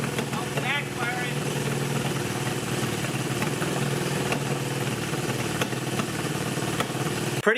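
A Honda CB360 twin-cylinder motorcycle idles with a steady, throbbing engine note, a few sharp pops and backfires breaking through as someone talks over it.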